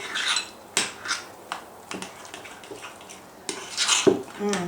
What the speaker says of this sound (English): I'm going to mix it real good